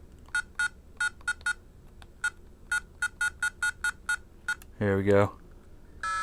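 A video game on an Atari Flashback Portable sounds a quick run of short electronic beeps in an uneven rhythm, then a brief buzzy burst. A voice speaks briefly over it.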